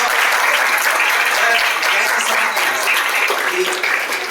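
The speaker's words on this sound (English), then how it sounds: "Give them a big clap." A large audience of students at a talk by a nuclear scientist claps loudly and continuously, a thick, close burst of applause with faint voices mixed in.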